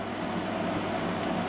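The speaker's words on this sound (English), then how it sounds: "And if you hear the air conditioner in the background" Steady low hum of an air conditioner running inside a warm apartment, a constant broadband drone with no other sounds on top.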